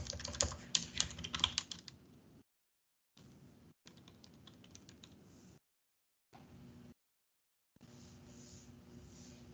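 Keys clatter on a computer keyboard in quick, uneven bursts, louder at first and then softer, broken by several short silent gaps, close up and with no talking.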